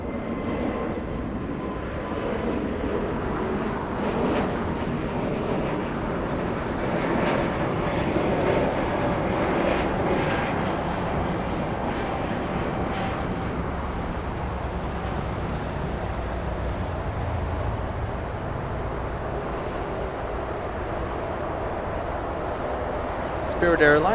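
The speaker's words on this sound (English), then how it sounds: "Spirit Airlines 816 using 25 right for departure" A Spirit Airlines Airbus A320 takes off from runway 25 right at Los Angeles International Airport, its jet engines a steady, broad roar that holds for the whole stretch and swells slightly near the end, heard from a distance outdoors.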